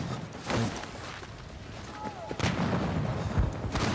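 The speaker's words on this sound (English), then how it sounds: "Come on, mortars." Mortar artillery fire in a shooting video game: a few heavy, muffled blasts, around the start, middle and end, rumble through a steady noisy battlefield background.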